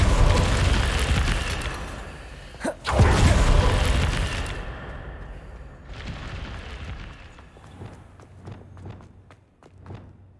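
In Hogwarts Legacy, a Confringo spell explosion booms with a heavy blast, followed by a second bigger eruption and rumble that fades, then softer thuds and footsteps trail off.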